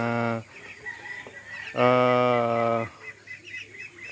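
Loud, nasal honking calls from backyard ducks, two long quacking blasts separated by softer clucks and chatter close by.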